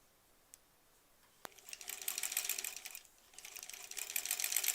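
After a couple of isolated clicks, a sewing machine starts stitching a granny squares quilt, its rapid mechanical chatter running in two close bursts with a short pause between them.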